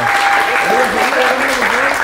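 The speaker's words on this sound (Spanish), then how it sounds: "un fuerte aplauso para Piero" A studio audience on the Feliz Domingo television show gives a strong round of applause for Piero, steady and loud throughout, with a voice talking over the clapping.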